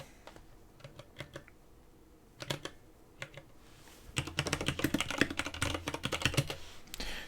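Keys on a computer terminal keyboard in a video game are tapped in short sparse clusters at first, then give way to a faster, denser run of clicky typing, close and crisp with no voices.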